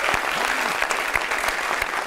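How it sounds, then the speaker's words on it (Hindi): Studio audience applause on a Pakistani television talk show, a dense, loud burst of clapping from many hands, continuous throughout. "मैं आपके लिए ताली बजा रहा हूँ"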